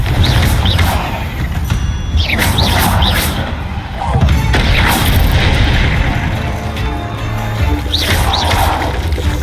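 Confringo fire spells blast repeatedly in Hogwarts Legacy combat, loud booming impacts and crashes over a dense, busy battle din, with a voice calling out spells in between.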